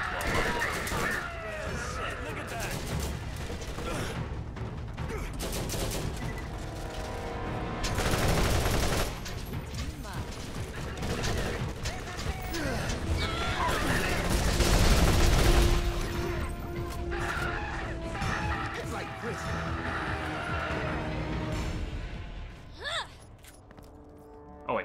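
Incendiary Fury gun in the Borderlands shooter firing in bursts of rapid, crackling automatic shots amid battle noise at Old Haven, loud and near, with someone talking over parts of it.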